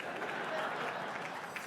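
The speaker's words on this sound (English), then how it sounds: "I guess you can kind of clap for that." Audience applause at an awards ceremony, a steady dense wash of many hands clapping that fills the whole moment, moderately loud with no clear gaps.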